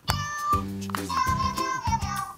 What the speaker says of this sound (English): Let's jump into Meow Meow mode.